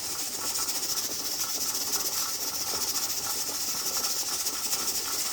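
Steam hissing steadily from a pressure canner on a stove while beef is being canned, a loud continuous hiss with a fast, faint rattling pulse from the jiggling weight.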